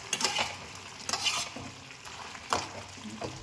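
Thor (banana stem) curry stirred in a pan, a spoon scraping and sizzling in quick bursts with a soft frying hiss beneath, close and moderately quiet.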